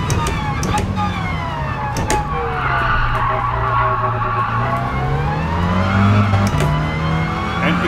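Race car wheels spin and tires screech in Gran Turismo Sport, a sustained loud squeal with shifting pitch over a steady engine drone, continuous throughout.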